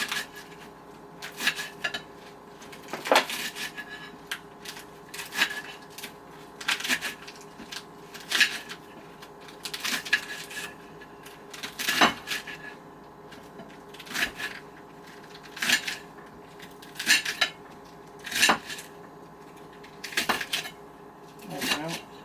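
A knife chops through bunched-up romaine lettuce on a cutting board, about a dozen crisp, evenly spaced thuds and crunches over a couple of seconds each, close and moderately loud, with quiet background between cuts.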